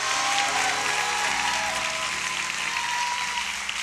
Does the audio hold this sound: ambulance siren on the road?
no